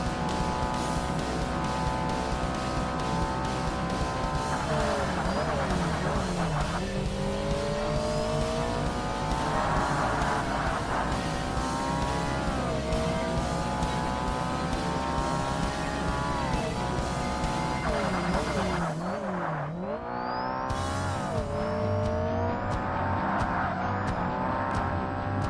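Racing car engine in Forza Motorsport revving hard through long rising gear pulls, with shifts and brief tire squeal, loud and continuous throughout.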